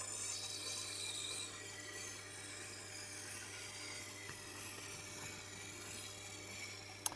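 A knife blade is drawn lightly across a Tormek ceramic honing wheel, a quiet continuous rubbing hiss over a low steady motor hum, heard alone.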